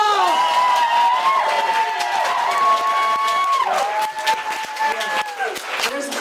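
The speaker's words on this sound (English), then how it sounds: "you're gonna give a rousing applause for the brown people" A comedy club audience applauds loudly and steadily, with cheers and whoops rising over the clapping throughout.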